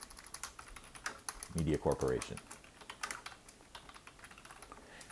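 Typing on a computer keyboard while entering footer text in Google Docs, a quick run of soft key clicks that goes on under a person talking.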